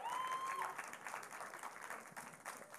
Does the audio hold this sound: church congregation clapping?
yes